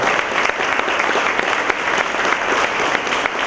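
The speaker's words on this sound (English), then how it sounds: "Let's give them a round of applause" An audience at a community organisation's annual meeting applauds a panel, dense steady clapping filling the room, close and loud throughout.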